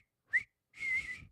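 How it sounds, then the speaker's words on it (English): A man whistles a short Gilbert and Sullivan tune from Pirates of Penzance indoors: one brief chirped note, then a longer sustained phrase, close and clear with no speech. "Who's whistling? I'm whistling."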